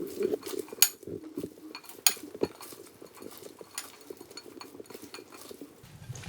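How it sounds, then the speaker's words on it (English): A mandarin orange salad being tossed together in a bowl, with repeated clinks and scrapes of utensils against the dish in an irregular rhythm, close and moderately loud with no talking. "So I'm just gonna add those to my salad and mix it together really well."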